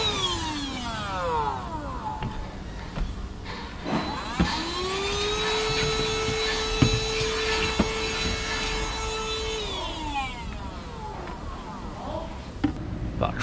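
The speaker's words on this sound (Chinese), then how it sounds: "现在可以把车上收拾一下了，垃圾吸一吸。" A vacuum cleaner cleans trash out of a vehicle, its motor whining up to a sustained steady tone and winding back down near the end, with scattered knocks and clatter around it.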